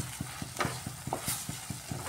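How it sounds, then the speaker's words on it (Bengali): Masala gravy for an omelette curry fries in a pan and is stirred, giving a steady low sizzle with regular soft scraping strokes about every quarter second, close and unvoiced. "দেখুন মশলাটা খুব সুন্দর কষানো হচ্ছে"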